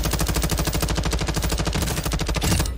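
Rapid gunshots in the battle royale game Call of Duty Warzone, a loud, unbroken stream of automatic fire rattling close by for a few seconds.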